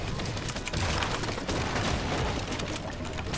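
Rapid gunfire and booming shots from a video game firefight, loud and continuous throughout with dense bursts and no clear pauses.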